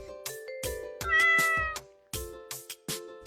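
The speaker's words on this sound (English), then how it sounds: "Cat." A cat meows several times in quick succession, with short and medium-length calls and one longer, higher meow in the middle, heard clearly and alone.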